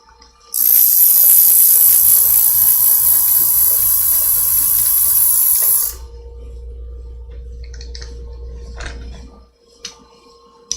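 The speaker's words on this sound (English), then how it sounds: "you don't have to spend as much time on the polishing wheel as you do over on the sharpening wheel" A blade pressed against the polishing wheel of a rotary blade sharpener makes a loud, harsh grinding whir for about five seconds. It then drops to the quieter hum of the spinning wheel, with a few light clicks and taps near the end.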